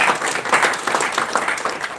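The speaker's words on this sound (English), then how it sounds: "Let's give another round of applause to our mayor." An audience at a book launch claps for the mayor, a brief burst of steady, fairly loud applause from a roomful of people.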